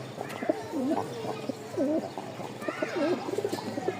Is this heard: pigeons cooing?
yes